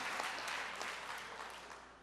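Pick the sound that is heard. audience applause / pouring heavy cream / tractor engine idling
audience applause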